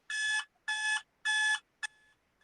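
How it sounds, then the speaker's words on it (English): A 99-second countdown timer's alarm at a pitch competition goes off in three long, even electronic beeping bursts, then a short final blip, loud and clear with no talking. "You're the first person to ever use the 99-second timer."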